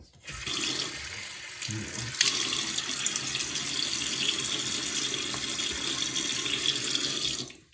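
Tap water runs steadily into a sink while a man wets his face before a shave with a badger brush, a continuous close splashing rush that lasts several seconds and stops abruptly, with no speech.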